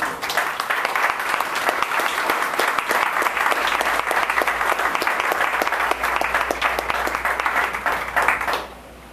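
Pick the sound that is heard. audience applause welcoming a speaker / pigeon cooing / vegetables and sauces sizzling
audience applause welcoming a speaker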